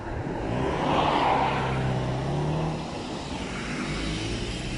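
Vehicles drive past outside an air base, a broad rushing swell that peaks near the start and fades, with a low engine hum under it and no talking.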